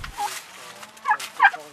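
Sustainably raised Thanksgiving turkeys in a pen on a local farm gobbling, with quick warbling calls at the start and two louder, close bursts near the end.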